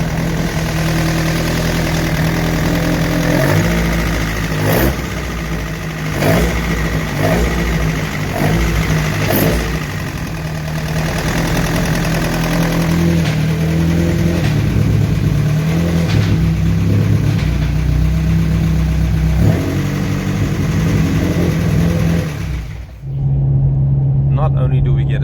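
A naturally aspirated VW Golf GTI Mk2 16v with individual throttle bodies idles loudly and close, with a series of sharp revs and an uneven, noisy rumble, then drops abruptly to a quieter idle near the end.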